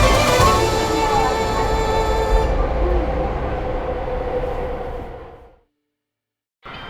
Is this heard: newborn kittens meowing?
no